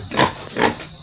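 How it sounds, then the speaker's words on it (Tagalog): Two loud, close pig grunts follow one another quickly, each a short rough snort. "Yan yung baboy niya."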